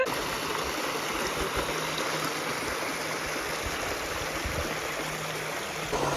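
A mountain creek flows over rocks near Water Wheel Falls outside Payson, a steady close rushing wash with no voices.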